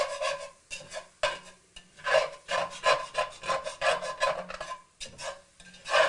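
Spatula scraping and stirring a flour roux in a pot for New Orleans gumbo, close rhythmic rasping strokes repeating roughly every half second with brief pauses between them.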